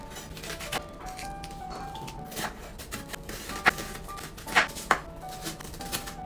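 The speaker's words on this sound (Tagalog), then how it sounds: "So maghihiwa muna tayo dito ng bawang." A knife chops garlic on a board in a home kitchen, a steady series of light taps with several sharper strikes, close and without talk.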